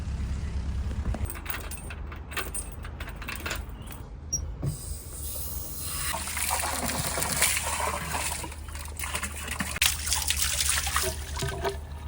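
Water trickles and runs steadily from a tap into a narrowboat's water tank on the River Thames, with metallic jingling early on and a low engine-like rumble underneath throughout.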